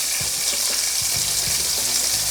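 Onions frying in a pan as the start of a chicken stew, a steady close hiss of sizzling oil running through the whole stretch with a few soft low knocks beneath.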